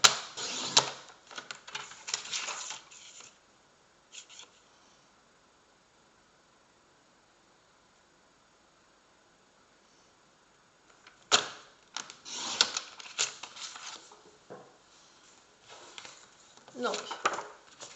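Scissors cutting a square from plain white paper while making a watercolour window card: bursts of crisp, close snipping and rustling, a long quiet pause, then more cutting.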